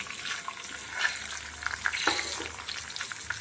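Mustard seeds, chana dal, urad dal, cumin, fenugreek, onion, garlic, dried chillies and curry leaves frying in about three spoons of hot oil in a pan, giving a steady close sizzle with scattered crackles and stirring scrapes, no voices.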